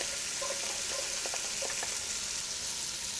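Garlic fries with bacon in a pan, giving a steady, close sizzle with faint crackles and a few light scraping sounds of stirring.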